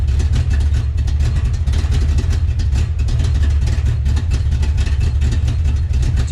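A steady engine idles with a deep, rough rumble, its leaking exhaust giving a constant chuffing rattle throughout, no voices.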